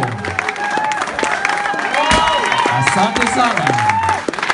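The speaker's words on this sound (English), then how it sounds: "A big applause for Mr. Mango." An audience at a Maasai closing ceremony breaks into loud, sustained clapping and cheering, with voices talking and calling out over the applause.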